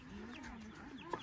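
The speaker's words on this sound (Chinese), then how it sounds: "鸭子" Ducks on a hillside farm give a brief run of nasal, harmonic calls, close and fairly soft, ending in one sharper note.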